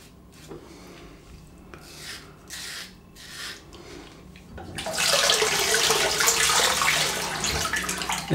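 A mild safety razor scrapes stubble close-up, soft rasping strokes at first, then a louder rush of running water from a tap in the latter half.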